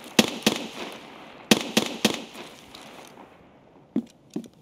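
Gunfire in Escape From Tarkov: sharp close shots in quick pairs and triplets, then a pause with a fading tail, followed by two more distant-sounding cracks.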